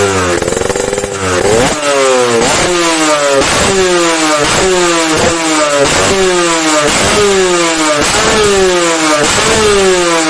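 A motorcycle engine fitted with a PWK carburetor is revved hard again and again. Each loud, close burst of throttle climbs sharply in pitch and then drops back, in a quick repeating rhythm.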